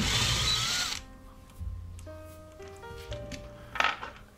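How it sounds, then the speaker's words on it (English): A driver unscrews two small Phillips head screws from the top of a Nissan starter motor held in a bench vise. A steady whirring tone comes and goes in short runs, with light metallic clicks and a clink at the end. "I'm taking out 2 Phillips head screws on the top"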